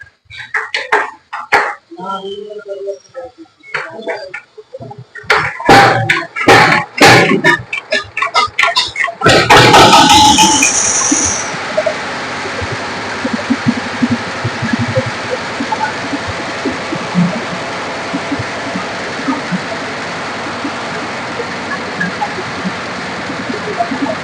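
A second-hand power tiller with a dung-field plough blade and six wheels, three iron and three tyred, starts with a loud burst after speech, then settles into a steady, fairly loud idle that runs on alone.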